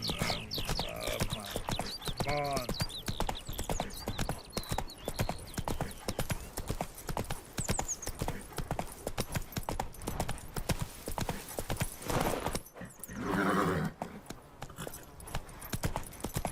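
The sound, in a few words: horse hooves and neighing in The Witcher 3 video game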